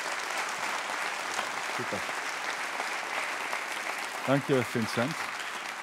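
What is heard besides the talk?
audience applause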